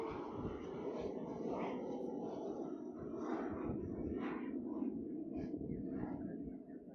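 A UPS cargo plane departs Honolulu airport, its broad, steady jet roar filling the scene from a distance and holding at an even, sustained level throughout.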